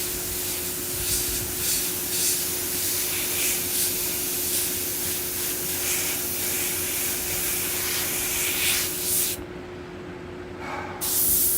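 An airbrush sprays paint onto a skull in steady, continuous close hissing bursts, with a brief drop in the hiss near the end before it resumes.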